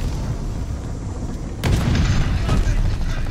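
A grenade bursts with a deep, close boom in a shooter game, a sudden loud blast midway through over constant low rumble, followed by further thumps, while someone talks.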